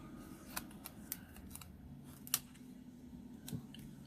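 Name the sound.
scissors cutting paper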